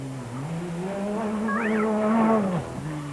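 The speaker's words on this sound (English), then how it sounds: "the Schlessermobiles, the buggies, the engine slung over the back, perfect traction on a tough terrain" A Schlesser rally buggy with its engine slung over the back races in the 1999 Dakar Rally, its engine note rising and falling as it passes, heard moderately close with no talk.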